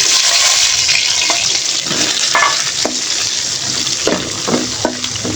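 Chopped onion and a little minced garlic hit hot oil in a pan, giving a loud, close, continuous sizzle with occasional stirring clicks and scrapes and no talking.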